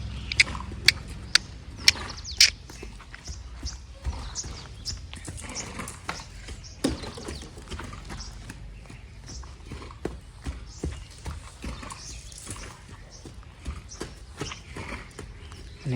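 A horse being lunged in a circle, its hooves clip-clopping in a loose repeating rhythm on the ground, sharp close strikes at first, then softer, fainter steps with low background noise.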